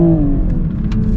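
A Toyota Supra with its BMW engine accelerates hard with the tires spinning, a steady loud engine drone with rising harmonics close by, no talk over it.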